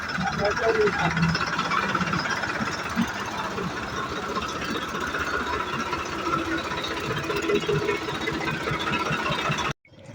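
A New Holland tractor engine runs steadily with a continuous mid-pitched knocking drone, fairly loud and close, before it cuts off abruptly near the end.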